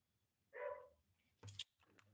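Dog barking in the background during an online math lesson, a faint muffled bark followed by a couple of sharper yips, distant and alone without talk.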